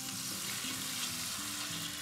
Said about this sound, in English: So we're gonna add our butter.